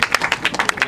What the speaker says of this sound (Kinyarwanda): Mubaha amashyi.